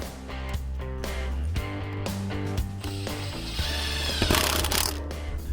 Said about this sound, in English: we're going to put the unit over the hole and secure it with the screws that it comes with.